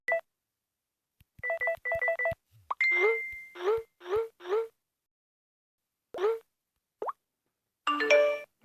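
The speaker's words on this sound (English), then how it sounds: "And this is just an email sound." Android keyboard email key sound effects: a series of short synthetic plops, beeps and chimes, some in quick triplets and others single, clean and close with silent gaps between.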